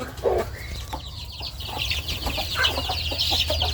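Thai native chickens cluck and chatter close by during morning feeding, short repeated calls over a soft farmyard background.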